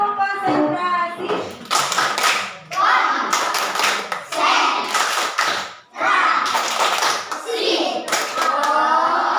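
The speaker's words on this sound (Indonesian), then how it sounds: "Tepuk konsentrasi." A classroom of pupils performs a rhythmic concentration clap, brisk patterned hand claps in quick bursts mixed with children's voices chanting along, close and steady throughout.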